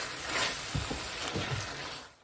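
Teriyaki chicken and vegetables sizzle steadily in a pan, a continuous close frying hiss with a few soft stirring knocks partway through.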